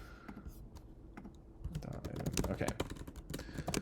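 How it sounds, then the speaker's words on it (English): Rapid computer keyboard typing with dense, irregular key clicks that grow busier and louder partway through, while a voice briefly speaks over it. "let me finish typing this and I'll talk about this."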